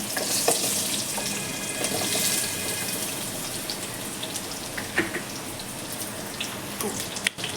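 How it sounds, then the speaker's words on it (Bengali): Potatoes frying in hot oil tempered with nigella seeds and a green chili, a steady broadband sizzle with scattered crackles and a sharp clatter near the end, close and fairly loud with no talking. "তেলটা গরম হয়ে গেছে, এখন তেলের মধ্যে অল্প একটু কালো জিরে ফোড়ন দিলাম, একটা কাঁচা লঙ্কা ফোড়ন দিলাম, দিয়ে কেটে রাখা আলুটা আমি এর মধ্যে দিয়ে দিলাম।"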